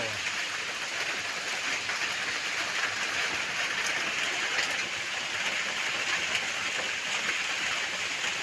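Strong wind and rain sweep through tree leaves in a steady, unbroken rushing wash of moderate loudness that holds evenly from start to finish.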